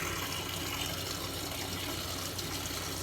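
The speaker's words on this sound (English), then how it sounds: "So I'm rinsing the razor in cold water." A razor is rinsed under cold running water from a tap, a steady, fairly quiet gushing and splashing that continues unbroken with no talking.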